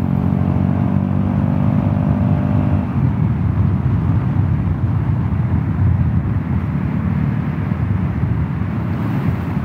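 A Vespa GTS 300 hpe scooter with tech pulley and sliding rollers cruising on the Autobahn, a loud, steady engine drone mixed with heavy wind roar that holds constant throughout.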